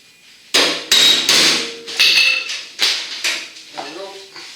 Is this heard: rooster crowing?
no